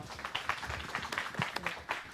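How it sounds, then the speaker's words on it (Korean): A small group at a college innovation support project consulting session claps for three consultants, giving brief, uneven, moderately loud claps with no voices. "오늘 고생해 주신 세 분의 위원님들께 저희 박수해 주시고 마무리했으면 좋겠습니다"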